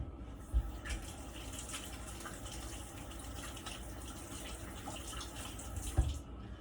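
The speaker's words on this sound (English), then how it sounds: "Let me get my hands rinsed off" Water runs steadily from a kitchen tap as hands are rinsed under it, a soft continuous splashing hiss with a couple of faint knocks, quiet and close.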